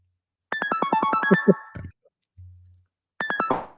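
A short electronic phone ringtone melody plays, stops, then starts again after a brief pause; clear and close, with no talking.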